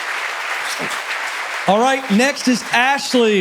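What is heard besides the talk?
live audience applause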